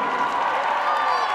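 A crowd applauds and cheers in an arena at a women's college basketball game between DePaul and Butler, a steady roar of clapping and voices with a loud announcer's voice over it.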